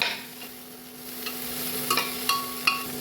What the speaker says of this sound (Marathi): आता छान मिक्स करूया